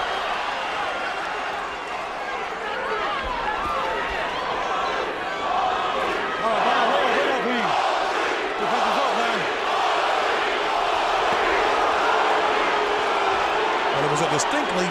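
A boxing arena crowd roars and cheers for Shane Mosley and Fernando Vargas, a continuous dense wall of shouting fans at moderate distance that swells slightly midway through.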